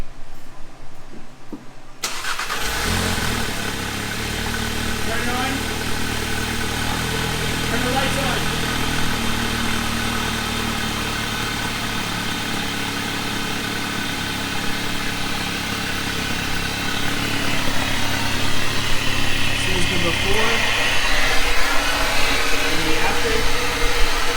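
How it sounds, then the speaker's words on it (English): A Volkswagen MK7.5 GTI engine cranks and catches after a brief quiet moment, then settles into a steady idle at close range; people talk over the running engine. "Start the car real quick."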